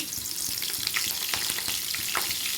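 Green chillies crackle and sizzle in hot ghee for a pongal tempering, a dense, steady frying hiss with sharp pops, close and alone.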